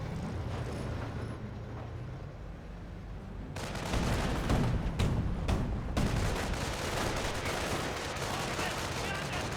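Mortar and gunfire from Company of Heroes 1 battle: a dense, continuous rumble of shots and blasts, with heavier bursts of explosions swelling in the middle, loud and unbroken throughout.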